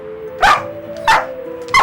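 Three sharp, loud barks from a close dog land at even intervals of roughly two-thirds of a second, each a short bow-wow over a faint steady hum.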